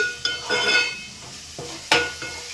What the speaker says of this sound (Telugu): ఇంకా కొంచెం మనకి ఉల్లిపాయ అనేది ఫ్రై కావాలి